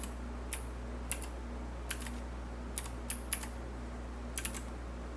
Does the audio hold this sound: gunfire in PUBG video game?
no